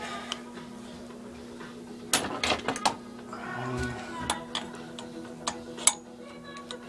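A socket wrench ratchets in short clicking bursts on the flywheel of a 5HP Briggs & Stratton engine, close and fairly faint over a steady electrical hum, with scattered metallic ticks.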